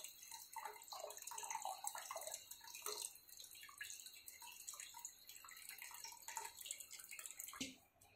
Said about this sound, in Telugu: ఇందులో కొన్ని వాటర్ పోస్తుంది